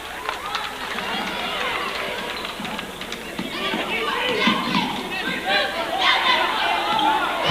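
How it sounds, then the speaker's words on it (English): A basketball crowd at a boys varsity high school game lets out a rising collective groan, the murmur swelling and lingering over court noise while an announcer keeps talking. "the crowd awing because Roberts had a shot and passed it up"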